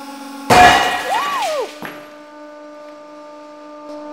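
A hydraulic press cracks a drinking glass with a sudden sharp crunch and shatter, followed by a brief rising-and-falling ringing squeal and a faint clink against a steady machine hum.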